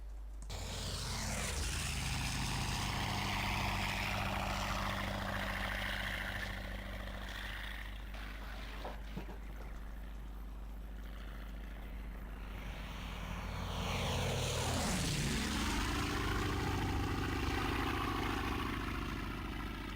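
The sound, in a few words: A6M Zero radial engine, video game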